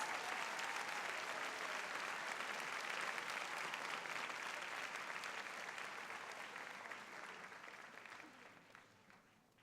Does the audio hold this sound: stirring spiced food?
no